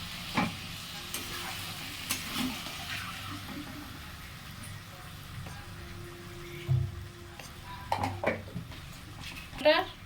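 A spice paste fries in a pot while being stirred, giving a low sizzle under occasional clinks and scrapes of a spoon against the metal, with louder knocks toward the end.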